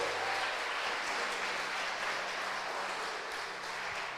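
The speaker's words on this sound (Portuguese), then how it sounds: "Dê um aplauso bem forte a Ele." Church congregation applauding at a worship service, a dense, steady wash of clapping close by that holds evenly for several seconds with no voices on top.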